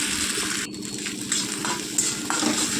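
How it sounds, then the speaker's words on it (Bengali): Egg scrambles and fries in oil in a wok, a close steady sizzle broken by occasional scraping and tapping strokes as it is chopped and stirred into small pieces. "ডিমটা ঢেলে দিয়ে আমি ভেঙে কুচি কুচি করে নেব।"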